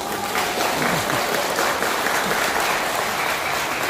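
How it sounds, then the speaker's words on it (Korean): A crowd at a November 2021 press conference held by Pastor Jeon Kwang-hoon for the Korean Revolution Party and Sarang Jeil Church gives sustained, even applause, dense and loud throughout without a break. "박수 한번 치실래요?"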